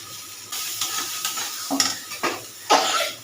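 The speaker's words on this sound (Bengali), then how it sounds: "দেখো এবার আমি কড়ার মধ্যে দিয়ে দিলাম সবটা সুন্দর করে" Ground bottle gourd paste goes into a hot kadai with a sudden sizzle, followed by scraping and stirring clatter of a utensil against the metal pan in uneven bursts, close and fairly loud.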